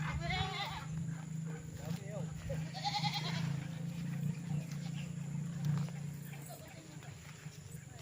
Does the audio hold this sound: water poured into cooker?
no